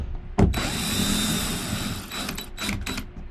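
A tool turns controller screws out of a Finnmark Designs enclosure, giving a sharp close click followed by a steady whirring buzz and a few short clicking bursts toward the end, with no talk.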